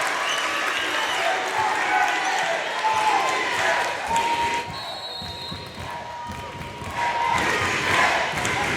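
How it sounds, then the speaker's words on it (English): A college volleyball crowd in an NCAA tournament match chants for Palm Beach Atlantic: steady, loud massed voices and cheering that fill the gym, dip briefly, then swell again, all running under a commentator's talk. "Sailfish crowd coming to life here with the chant of PBA."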